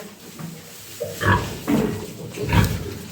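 A sow grunts and growls in a pen while eating her month-old piglet, with three rough, loud bursts of guttural noise at roughly one-second intervals.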